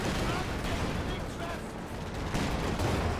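A 6-pounder anti-tank gun fires in Company of Heroes 2 amid dense, continuous battle noise, with sharp reports blending into a loud, crackling wall of gunfire and explosions.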